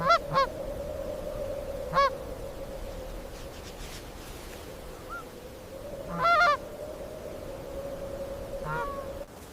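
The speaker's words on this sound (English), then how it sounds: "watched carefully by upland geese" Upland geese honk in scattered bursts of a few calls, some overlapping, over a steady low drone and wind-like background in cold Patagonia.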